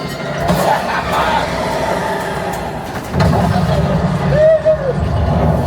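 A rumbling ride vehicle on the Millennium Falcon: Smuggler's Run ride at Disneyland rolls along under excited voices and crowd noise, with a heavier rumble surging in the second half.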